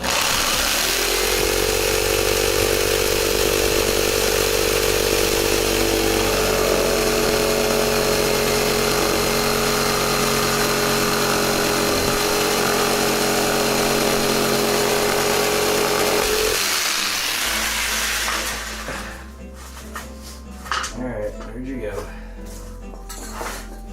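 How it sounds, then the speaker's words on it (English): Power saw cutting a wooden bridge foot for a DIY bowed guitar, a loud, steady, close whine for about sixteen seconds, then cutting off into quieter clatter and handling sounds. "I'm gonna try to cut off a piece of our leftover bridge's foot"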